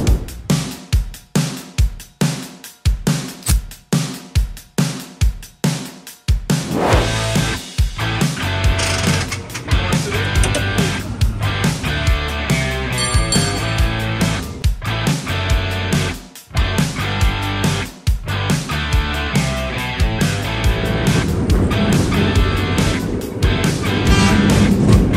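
A San Francisco cable car leaving Fisherman's Wharf climbs a steep grade, first with a regular clanking beat, then a loud continuous mechanical rattle and rumble of the cable and grip machinery, with occasional knocks and clangs.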